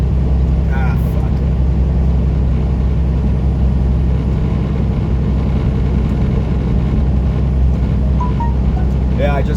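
Semi truck on the I-80 westbound after a missed gear shift, giving a loud, steady low engine drone and road rumble throughout, with a person talking over the noise.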